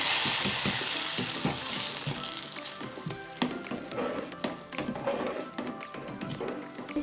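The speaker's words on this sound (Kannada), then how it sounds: "ಗೋಡಂಬಿ ದ್ರಾಕ್ಷಿ ಹಾಕ್ಕೊಂಡು ಒಂದು ಫ್ರೈ ಮಾಡ್ಕೊಳ್ಳಿ" Cashews and raisins sizzle and fry in hot fat for payasam, a steady crackling hiss with occasional taps and stirs of a spoon in the pan, close and continuous with no talking.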